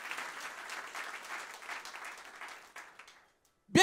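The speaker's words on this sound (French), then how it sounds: "Alors acclamons très fort le Seigneur Jésus." A church congregation applauds loudly and steadily during a service, the dense clapping thinning out and fading near the end before a short burst of a voice.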